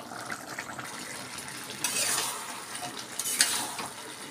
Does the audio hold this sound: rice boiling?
yes